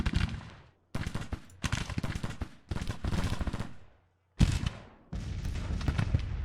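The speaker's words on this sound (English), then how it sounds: "at least the other Mississippi Rifleman brigade is firing" Rifle volleys from Civil War infantry brigades in the strategy game Grand Tactician crackle in dense bursts of overlapping shots, several rolling salvos separated by brief silences, loud and close.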